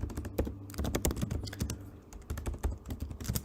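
Rapid clicking of computer keyboard keys, dense and irregular keystrokes nearly continuous for a few seconds, close and fairly quiet, no voices.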